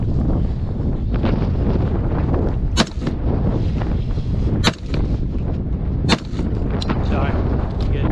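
Gunshots on an outdoor range at Piñon Canyon from an issued Sig Sauer M17 pistol or Colt M4A1 carbine, three or four sharp, loud cracks spaced a couple of seconds apart over steady wind noise.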